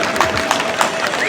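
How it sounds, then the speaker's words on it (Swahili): A crowd applauds at a CCM party meeting in Tarime. The clapping is loud, dense and sustained, with a few stronger rhythmic beats, and voices carry through it. "Tujipigie makofi makubwa sana."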